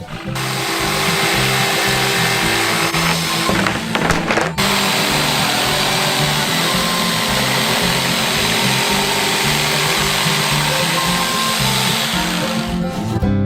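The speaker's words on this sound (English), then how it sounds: "Now we just need to cut it out with an electric jigsaw." An electric jigsaw cuts a shape out of a sheet with a loud, steady motorized buzz, briefly interrupted once near the start, then running continuously close by until it stops at the end.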